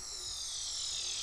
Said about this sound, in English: And the one other sound we add is this cool little transitional sound effect.